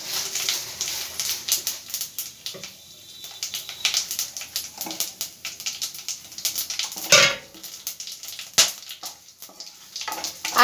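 Bay leaves, dried red chillies, cinnamon pieces and white cumin seeds sizzle in hot oil for a tempering, a close crackling, spitting fry with irregular pops and faint clinks of a utensil.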